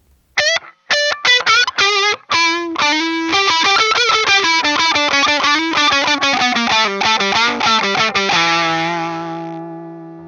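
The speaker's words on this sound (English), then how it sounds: "a less distorted and more transparent boost overdrive sound" Electric guitar through the THNEED boost overdrive pedal by Supercool Pedals on its less distorted, transparent setting: a few picked notes, then a quick run of chords and notes ending on a sustained, ringing chord.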